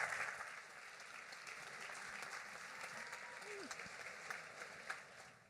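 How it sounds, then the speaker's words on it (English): Distant crowd applause for a guest at a Yom HaShoah commemoration, a faint, steady patter of many hands heard from afar, with a few sharper claps and a brief voice. "Give her a huge round of applause."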